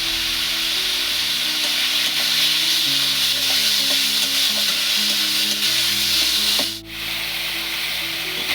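Chicken momo filling is stirred in a frying pan: a continuous bright sizzle with rubbing, scraping strokes of the spoon, close and fairly loud, over a low steady hum, with a brief dip near the end.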